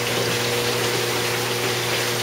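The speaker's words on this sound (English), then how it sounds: "922 gallons per hour submersible fountain pump" A 922-gallon-per-hour submersible fountain pump in an indoor aquaponics fish tank hums steadily while pushing water, a constant low motor drone under a loud, even rush of moving water with no breaks.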